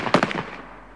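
Firing squad gunshots from an execution scene in a staged performance of the opera Tosca ring out as a quick volley of several sharp cracks, then fade into a reverberant tail.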